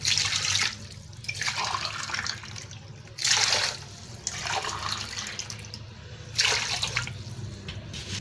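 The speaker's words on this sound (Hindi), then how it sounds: "3 गिलास पानी शामिल करेंगे।" Three glasses of water are poured into a cooking pot with garlic cloves, three separate splashing pours with short pauses between them, close by and alone over a low kitchen hum.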